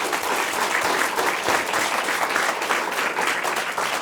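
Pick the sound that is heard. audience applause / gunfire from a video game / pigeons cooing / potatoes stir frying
audience applause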